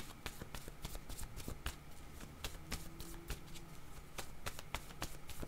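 Playing cards being shuffled by hand in a quiet room before a picture card is drawn, a steady run of crisp riffling snaps and flicks, close and soft.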